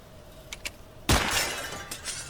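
Glass shatters in the Nocturnals video game, one sudden loud crash followed by a brief scatter of tinkling shards, with quiet ambience before it.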